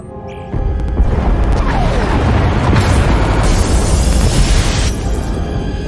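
Pod bays exploding in Star Wars: Knights of the Old Republic, a sudden loud blast that rolls into a sustained roaring rumble with crackling debris for several seconds before easing slightly.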